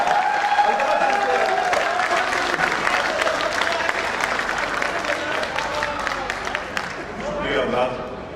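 Sustained applause fills the hall from a mushaira audience in Pune, dense and steady throughout, with a voice calling out briefly near the start and the clapping swelling again toward the end.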